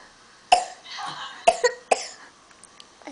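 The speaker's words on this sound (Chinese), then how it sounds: "为什么会咳嗽" A child coughs after drinking water, three sharp, close coughs at uneven intervals, the last two coming quickly together, followed by a few faint small sounds.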